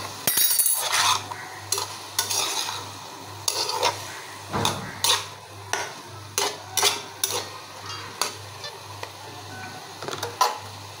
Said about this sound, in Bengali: তো আমি এটাকে তেলে ভেজে নিব ভালো করে।